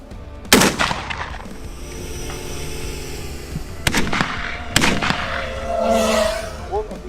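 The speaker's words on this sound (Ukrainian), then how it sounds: "будемо працювати, відпрацьовувати стрільбу з гладкоствольної рушниці" Smoothbore shotgun fired at FPV drones: three loud sharp gunshots spaced a few seconds apart, with outdoor rumble and a faint voice in between.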